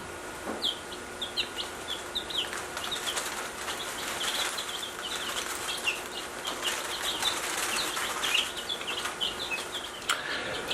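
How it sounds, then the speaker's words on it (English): Baby chicks newly brought onto a ranch, a dense chorus of high, rapid peeping and cheeping with soft wing flutters, close and steady throughout with no talk. "So we got some new chicks in"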